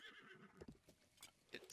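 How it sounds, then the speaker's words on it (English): A horse in the Zelda Breath of the Wild game gives a brief whinny and snorting sounds at moderate volume, with a bright game effect at the very end. "You hit your horse."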